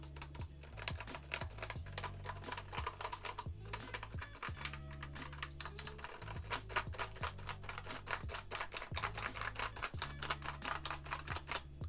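Rapid clacking of a mechanical keyboard as its keycaps are flicked and struck, a dense stream of sharp plastic clicks close up with a low steady hum underneath, no voices.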